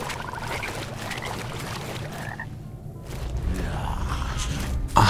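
Frogs croaking in a forest scene of a VR-played video game, a steady chorus of rasping croaks close by, growing slightly louder toward the end.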